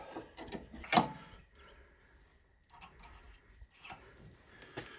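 Short metallic clicks, scrapes and rattles on a wood lathe as a pen mandrel is swapped out, a few sharp close knocks separated by near silence.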